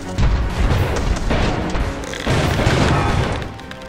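Dense, continuous barrage of booming cannon blasts and crackling gunfire in an airship battle in the game Airships: Conquer the Skies, loud and overlapping with no gaps.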